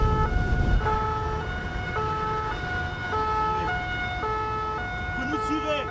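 French gendarmerie police car siren wailing in a steady two-tone pattern on a motorway during a high-speed chase, loud and continuous over the roar of the road, with faint voices inside the vehicle.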